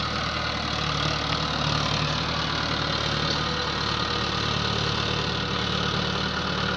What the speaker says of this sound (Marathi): आता ट्रॅक्टरने काकरून घ्यायचं चाललंय